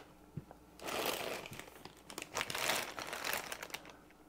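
Plastic parts bags from a Tamiya Max Climber model kit crinkling and rustling up close, starting faint and then turning into busy, irregular crackles as the bags are handled.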